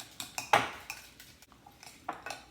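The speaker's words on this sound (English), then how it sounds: "just give it a good whisk" Eggs whisked in a bowl for a Monte Cristo sandwich batter, a quick series of light clinking taps of a utensil against the bowl, close and uneven.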